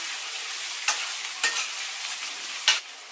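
Maggi noodles frying in a pan under a steady close sizzle, broken by three sharp scraping stirs of the spoon against the metal.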